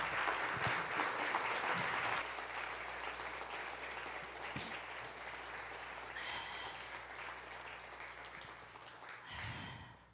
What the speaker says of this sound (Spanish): Gran aplauso a esta palabra de Dios.